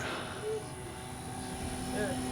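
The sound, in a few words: FMS Ranger 1800mm RC airplane flying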